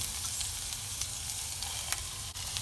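Carrots, capsicum and cabbage stir-frying in a pan for spring roll filling, a loud continuous sizzle with scattered stirring scrapes and crackles close by.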